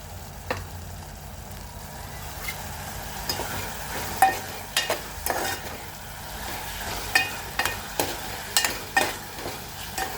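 Tomatoes for drumstick curry being stirred in a pan, a spoon scraping and tapping in repeated strokes over a low, soft sizzle.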